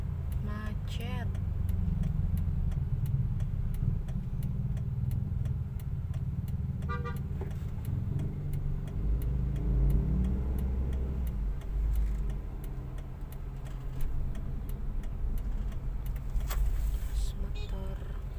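Midday street traffic jam in Makassar, with a constant rumble of cars and motorbikes, occasional horn toots and engine noise throughout, while a voice talks over it.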